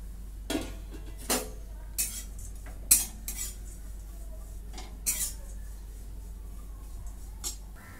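Grated coconut dry-roasting in a pan for a spicy mutton curry, heard as a series of sharp metallic clinks and scrapes from a spatula against the pan, spaced irregularly over a low steady hum.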